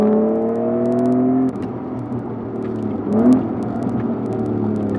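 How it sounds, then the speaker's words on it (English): Acura NSX with a custom AEM exhaust holding a steady, droning note, then dropping and rising again through a sharp rev that swells briefly before settling back to an even engine growl, close and loud. "Custom AEM exhaust doing its job."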